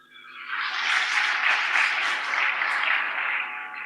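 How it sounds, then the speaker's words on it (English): A hall full of delegates at a Nigerian Navy international maritime conference applauds steadily for a few seconds, swelling quickly and holding a dense, even clatter of clapping with no talk. "May we give him another round of applause."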